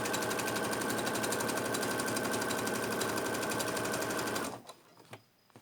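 A sewing machine runs continuously and loud, stitching an inside pocket into a bag, then stops abruptly near the end, leaving a few faint clicks.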